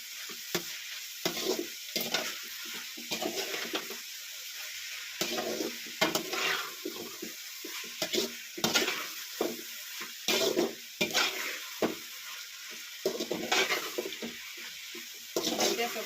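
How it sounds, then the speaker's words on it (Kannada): Tomato and vegetables fry in oil in a pan, a continuous close sizzle broken by repeated bursts of stirring and scraping against the pan. "ಇದನ್ನು ಹಾಕಿ ಚೆನ್ನಾಗಿ ಫ್ರೈ ಮಾಡ್ತೀನಿ ಟೊಮೊಟೊ ಒಂದು ಹಾಕ್ಕೊಬೇಕು ಸ್ವಲ್ಪ ಫ್ರೈ ಆಗುತ್ತೆ"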